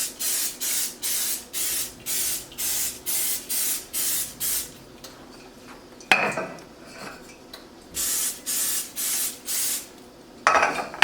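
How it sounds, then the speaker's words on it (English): Cooking spray hisses onto a mini muffin tray in a quick series of short, even bursts, pauses amid faint kitchen clatter, then sprays another rapid run of bursts, all close and clear. "I'm going to go ahead and spray those openings"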